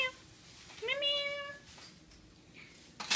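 A pet cat gives a single drawn-out meow, fairly close and clear, in a quiet room with a brief rustle at the end.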